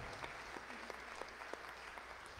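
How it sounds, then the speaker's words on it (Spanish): Applause in a church during a Sunday Mass, as the congregation claps for a man training to become a deacon; steady scattered clapping fills the space at moderate volume, fairly distant, without talk over it. "¡Otro aplauso!"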